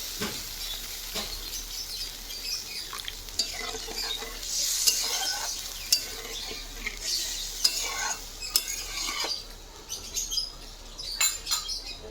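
A spoon stirs a sautéed banana-flower and prawn curry in a pan as water goes in, with scraping strokes and soft sizzling throughout and a few sharper clinks of metal on the pan.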